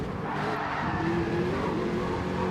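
Race car engine in Gran Turismo 7 daily racing with a standing start, revving loud and continuous as it powers out of a corner, with a whine of tyre scrub layered over the engine note throughout.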